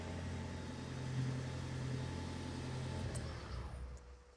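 A hybrid car's petrol engine starting up and running, a steady low idle hum with a faint whine, close and alone, easing off toward the end.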